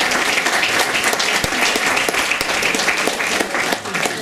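A crowd at a golden, diamond and platinum wedding anniversary celebration claps loudly and continuously, a dense, even wash of hand claps with sharp individual slaps standing out, no one speaking.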